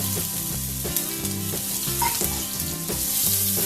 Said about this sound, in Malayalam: അര ടീസ്പൂൺ കടുകിടാം കടുക് പൊട്ടി തുടങ്ങുന്നുണ്ട്